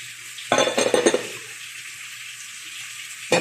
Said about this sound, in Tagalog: Habang niluluto natin ang ating shawarma